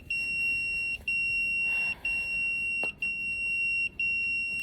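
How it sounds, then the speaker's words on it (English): A work beeper alarm sounds a steady, high-pitched electronic tone repeated in regular long pulses with short gaps, about one per second, fairly clear with quiet room noise underneath. "it's the work beeper"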